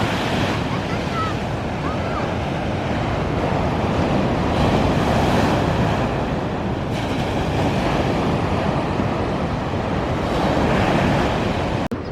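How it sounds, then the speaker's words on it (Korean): Big sea waves roll in and crash onto a beach at Gangmun in Gangneung, a steady, loud roar of surf blended with gusty wind buffeting the microphone, with no voices over it. "파도가 확실히 크다"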